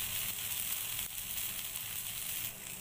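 Tomato dosa sizzling on a hot pan, a soft, continuous sizzling hiss that stays even throughout with no voices.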